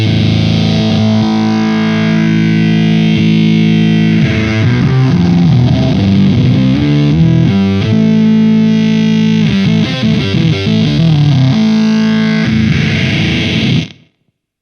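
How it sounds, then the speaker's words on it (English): Heavily distorted fuzz guitar through a Way Huge Atreides pedal with the sub octave turned fully up, a thick, synth-like low octave underneath, played loud and continuously before cutting off abruptly at the end. "The sub all the way up, it basically turns into a synth pedal and blends out the dry"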